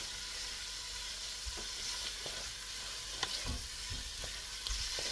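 Italian sausage browning in a pan for a creamy parmesan soup, giving a steady, close sizzle with occasional soft stirring scrapes and taps.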